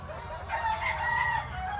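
A broodstag gamefowl rooster crows once, a clear mid-range cock-a-doodle-doo heard at moderate distance over a low, steady background hum.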